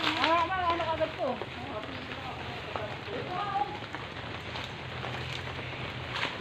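Steady rain pours down outdoors during a banana harvest, a constant broadband hiss running throughout, with people talking over it.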